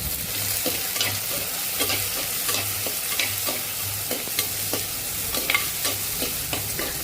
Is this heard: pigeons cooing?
no